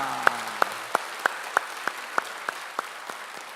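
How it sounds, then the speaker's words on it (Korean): Applause from a church congregation during a Sunday worship service, heard as a sparse run of about a dozen evenly spaced, fairly soft claps rather than a full roar. "우리 하나님께 영광의 박수 올립시다."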